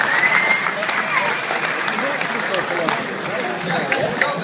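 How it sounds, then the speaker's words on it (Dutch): A crowd at TT Circuit Assen applauding during a racing day, dense continuous clapping close by, with a voice speaking over it throughout. "geef maar een groot applaus"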